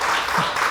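Brief burst of audience applause and clapping during a talk show taping, dense and steady for under a second.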